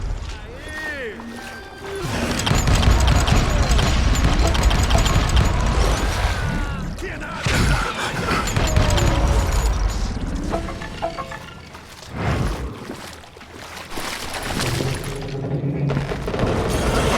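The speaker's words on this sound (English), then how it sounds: "a fusillade of bullets come raining down from on high" A fusillade of gunfire rains down from above in the Western shooter Call of Juarez: Gunslinger, loud and sustained, with booming shots, clattering mechanisms and crashes layered under continuous game sound for most of the stretch.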